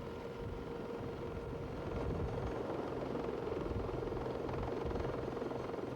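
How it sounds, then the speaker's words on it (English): A Lynx helicopter drones continuously, its rotor thudding steadily with a constant engine whine, loud and unbroken throughout. "Lynx helicopter, armed with a homing torpedo, sets off to search for the submarine."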